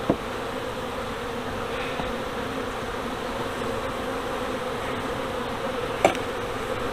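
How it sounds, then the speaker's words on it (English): A dense, steady hum of many honeybees swarming over the underside of a hive during an inspection, continuous and close, with a couple of faint knocks. "There's so many bees on the underside of this."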